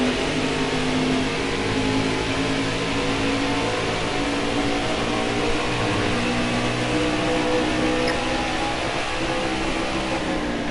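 Steady, loud engine drone of several racing cars in a PS4 racing game, a sustained mid-range roar with little variation, packed together as they jostle to pass, with no talk over it.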